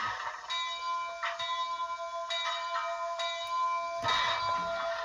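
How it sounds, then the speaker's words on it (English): A small, bright bell on an HO scale Canadian Pacific Royal Hudson model locomotive rings in quick repeated strokes, each tone lingering with a steady ringing decay, fairly close and alone. "We have a bell."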